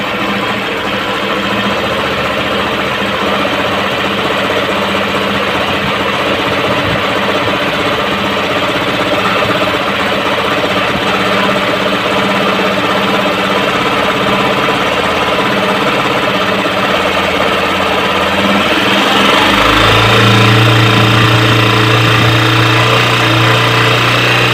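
Single-cylinder Honda CG125 motorbike engine idling close by, a steady loud rumble with a fast knocking beat, shifting into a deeper, heavier drone near the end.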